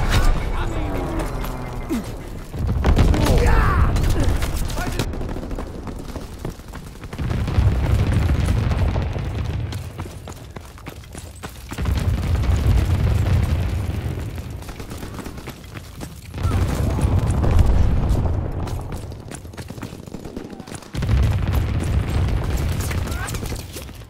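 Anti-aircraft flak guns fire in Call of Duty: WWII, heavy booming bursts of fusillade and explosions arriving in repeated loud waves about every few seconds, with a radio-style voice announcing in between.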